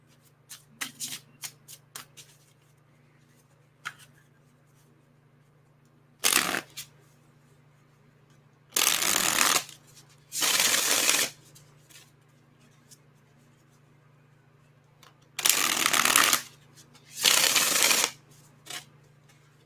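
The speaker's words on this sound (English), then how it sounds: "Let's see, one more shuffle." A deck of tarot cards is shuffled indoors in several distinct bursts of crisp riffling, each lasting about a second, with quiet gaps and a steady low hum between.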